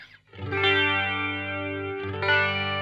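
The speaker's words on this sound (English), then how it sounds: "I don't really understand flangers, but it sounds cool." Sustained electric guitar chords run through a flanger, a slow sweeping, whooshing tone that shifts gradually as the notes ring out.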